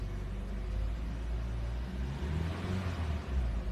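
A car engine accelerates with a low, continuous rumble and a light whir, holding fairly steady for several seconds with no talking.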